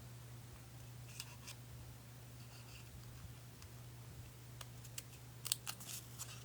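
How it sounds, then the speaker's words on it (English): Scissors snip through a paper craft piece in a quiet room, a few faint, brief cuts spaced apart over a low steady hum, with a cluster of crisper snips toward the end; no one speaks. "I'm going to cut off this part."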